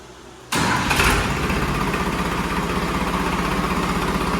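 A freshly serviced tractor is cranked with its self-starter, catching abruptly into a loud, close diesel rumble that settles into a steady, throbbing idle with no one talking.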